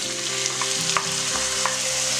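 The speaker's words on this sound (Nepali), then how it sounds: "प्याज राखिसकेपछि चाहिँ राम्रोसँग भुट्नुपर्छ" Onions fry in hot oil with cumin seeds and red chilli, giving a steady, close sizzle with a few soft stirring scrapes over a constant low hum.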